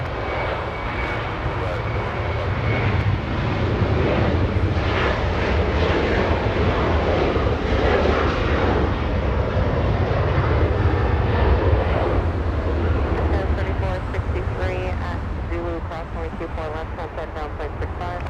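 A Delta Airlines A350-900 departs runway 24 right at LAX, a loud sustained roar of jet engines that builds and holds, then thins as the aircraft climbs away. Voices are present beneath the noise.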